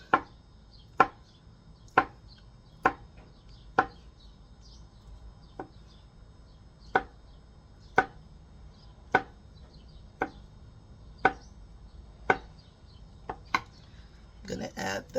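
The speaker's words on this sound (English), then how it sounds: "And I'm going to cut it up." Fruit chopped with a knife on a board, heard as about fifteen sharp, evenly spaced chops at roughly one per second, with a quicker cluster near the end over quiet room tone.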